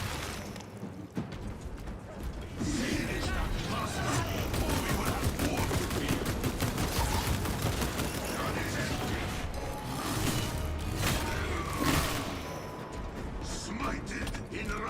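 A minigun fires in Space Marine 2, a sustained roaring stream of rapid gunfire with mechanical whirring and bursts layered over other game effects, loud and continuous throughout.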